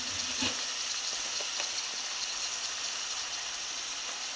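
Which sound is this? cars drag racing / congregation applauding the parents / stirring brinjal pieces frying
stirring brinjal pieces frying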